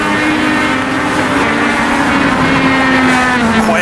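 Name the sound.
race car engine with sequential gearbox shifts in iRacing video game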